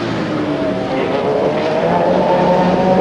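A Ferrari race car at the 2006 Spa-Francorchamps 24 Hours gives a steady, loud engine drone with layered harmonic tones, holding at high revs throughout without pause.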